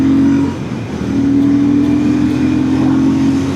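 A Royal Enfield Classic 650 twin-cylinder motorcycle engine revs loudly up close, holding a steady throttled drone with a brief dip before climbing again, with no talking.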